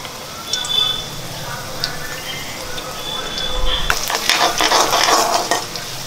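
Potato pieces fry in oil in a pan for poha, a steady hiss that swells into louder, crackling sizzling halfway through, with faint clinks of stirring nearby.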